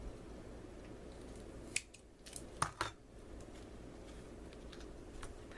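A few quiet snips of scissors cutting paper, short crisp clicks clustered in the middle over a faint background hiss.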